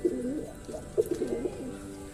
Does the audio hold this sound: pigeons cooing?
yes